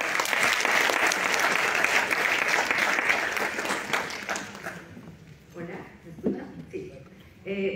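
A forum audience on ILO Convention 190 and decent work gives a welcoming speaker a strong round of clapping for about five seconds; it then dies down and someone begins to talk.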